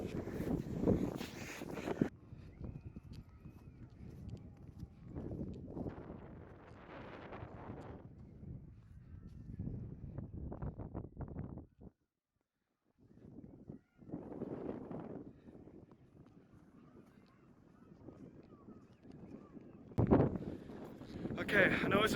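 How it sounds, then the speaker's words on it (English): Gusty wind buffets the microphone in broadband rumbling bursts, with a brief lull midway, and a voice speaks intermittently underneath. "I know it's a touch windy"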